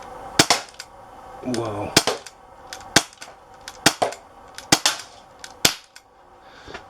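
Umarex Walther PPQ .177 CO2 pellet pistol firing repeatedly, about a dozen sharp cracking shots at irregular intervals, close and loud, with a brief exclamation from a man in between.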